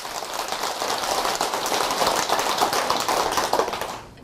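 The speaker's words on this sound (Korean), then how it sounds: "박수 한번 드리세요." An audience at a Buddhist monk's dharma talk gives a round of applause, a steady, dense patter of many hands clapping that continues without a break, with no voices over it.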